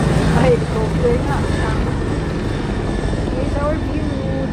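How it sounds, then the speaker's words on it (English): A helicopter flies over Manila, its steady rotor and engine drone filling the air continuously, heard from a high-rise with a pool view while people talk excitedly over it. "Helicopter. Helicopter."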